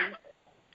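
A single short, sharp sneeze bursts out at the very start during a weekly religious class, followed by quiet room tone.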